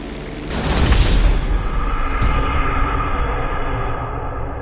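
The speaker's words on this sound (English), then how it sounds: "Hold the throttle all the way down to pick up speed, and pull back on the stick to take off." A plane's engine roars in GTA as it speeds up for takeoff, a loud, steady rushing drone that swells early and then holds, with a brief whoosh partway through.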